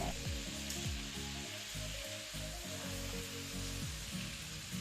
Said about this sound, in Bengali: এই সময় দেব হাফ কাপ নারকেল কোড়া আর হাফ কাপ কালো ছোলা নাড়িয়ে চাড়িয়ে কষাবো